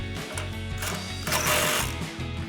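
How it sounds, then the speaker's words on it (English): An impact wrench runs in a steady mechanical rattle, driving an 18mm nut onto a sway bar link under a RAM 1500 pickup during a lift kit install, with a louder burst midway as the nut seats. "grab our impact and tighten that down"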